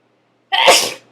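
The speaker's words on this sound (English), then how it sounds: "Oh, she sneezed anyway." A woman sneezes once, close and loud, a single sharp burst after a moment of silence.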